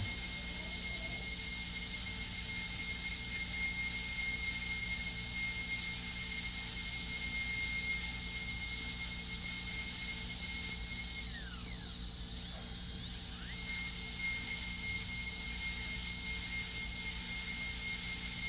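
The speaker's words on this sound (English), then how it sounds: "I believe that this material is becoming more resistant to the discs, or to the burrs here." A high-speed rotary burr grinds away material, a thin, steady high-pitched whine with a dip in pitch midway as the tool loads up, then recovers.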